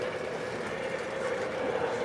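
O scale model trains running on a layout, a steady continuous rumble and hum of motors and wheels with no distinct breaks.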